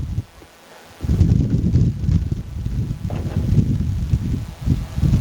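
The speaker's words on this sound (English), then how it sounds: "you can hear the wind's probably kicking up a bit" Gusty wind buffets a microphone outdoors during car waxing on a windy day, a steady low rumble that swells after a brief quiet opening and stays loud throughout.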